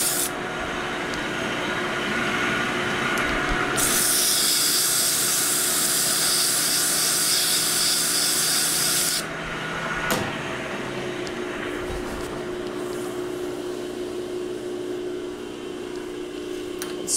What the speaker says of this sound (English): Very quick, light sand.